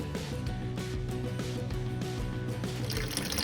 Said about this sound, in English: we drain a bit more of water